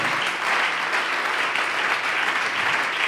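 A church congregation claps continuously and fairly loudly during a sermon, with dense, even applause filling the whole stretch without pause.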